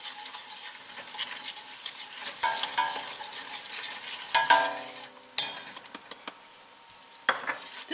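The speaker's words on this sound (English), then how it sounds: "So now we're going to add the flour, salt, and pepper mixture." A flour, salt and pepper mixture is stirred into a pot of creamy mushroom and chicken soup with vegetables, a quiet scraping and sizzling broken by a few sharp utensil knocks against the pot.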